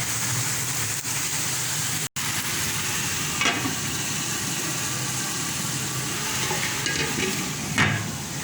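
Masala frying in a pan for chicken tikka biryani, a steady broadband sizzle with occasional stirring scrapes, continuous and close throughout.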